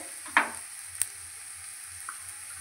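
Sliced onion and nigella seeds frying in a pan of oil, a soft steady sizzle with a couple of sharp spatula clicks against the pan.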